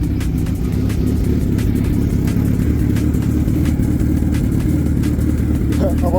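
Suzuki Hayabusa Gen 2 2015 sportbike with a Stage 2+ remap, its engine running loud and steady throughout, a continuous close-up mechanical drone with no voices.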